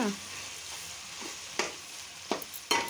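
Chopped tomato dropped into softened onion, ginger and garlic frying for a country chicken curry, a steady close sizzle with several sharp bursts as pieces hit the oil and are stirred, no talking.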